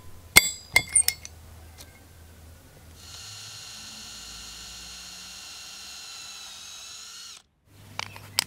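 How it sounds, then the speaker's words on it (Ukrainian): A power drill boring holes through small metal fishing lure parts, a steady whining drone lasting several seconds, framed by sharp metallic clinks of the pieces being handled, close and fairly quiet. "Свердлимо отвори."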